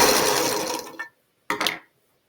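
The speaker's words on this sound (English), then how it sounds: "I'm still sewing. Sew that onto that." A sewing machine stitches quilt block pieces in a loud, close whirring run that stops after about a second, followed by a second short burst of stitching, with no talking.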